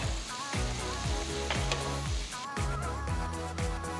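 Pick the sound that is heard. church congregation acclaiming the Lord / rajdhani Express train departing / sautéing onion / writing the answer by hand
sautéing onion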